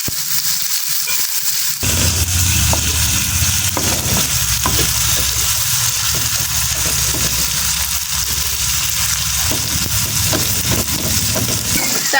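Hilsa fish pieces frying until crisp for a spicy hilsa karuya curry produce a loud, dense, continuous sizzle and crackle close by, with occasional spatula scrapes and low background rumble.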